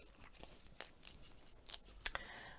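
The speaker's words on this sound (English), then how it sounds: "And what have I just done with my scissors?" Scissors cutting at a craft table while making a Christmas easel calendar with ribbon and foam tape, a few quiet, sharp snips spaced irregularly over soft background noise.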